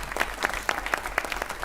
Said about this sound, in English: how about a round of applause for Glenn?